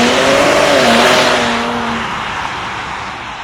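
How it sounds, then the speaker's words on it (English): A 300-horsepower Infiniti Q50 sedan engine roars loudly under a hard launch from a standstill, its pitch climbing then fading as the car pulls away, with road and wind noise. "Left foot on brake, right foot on throttle, and let's launch it."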